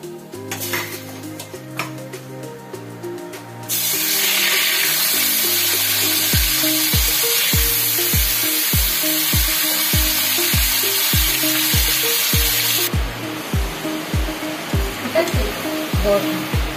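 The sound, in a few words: marinated chicken frying on high heat in pan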